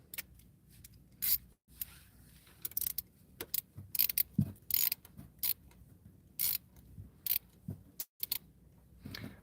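A small hand ratchet tightens a bolt during a gasket swap in a driveway, giving a series of short, crisp clicks in uneven bursts, close by and fairly quiet against a low background hum.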